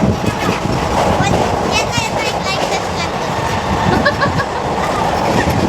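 A train rumbles steadily with a constant broad roar, clattering close by, while voices talk over it throughout from inside the carriage.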